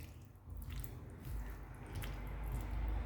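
Cream being stirred into a pan of onion and kohlrabi curry, giving soft wet squelching and sloshing with faint clicks, steady and close throughout.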